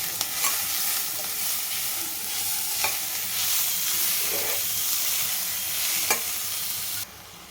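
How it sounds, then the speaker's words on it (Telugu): Grated beetroot being stirred in a hot pan for a beetroot and coconut curry, a steady broadband sizzle with occasional sharp spoon scrapes, close and alone until the frying noise drops away near the end. "ఈ బీట్రూట్ తరుగుని జాగ్రత్తగా వేసుకోవాలి మొత్తం వేసేద్దాం ఒకసారి బాగా కలపాలి"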